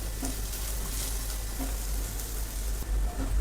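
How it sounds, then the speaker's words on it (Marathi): Onion sautéing in a pan for a spicy Marathi brinjal rice dish, a steady soft sizzle running throughout at moderate level, with faint occasional clinks and no talking. "तर कांदा छान परतलेला आहे."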